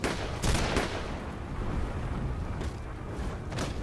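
Gunfire in Batman Arkham Knight's Red Hood story pack: a few sharp, loud shots near the start and later, over a constant, rumbling action backdrop.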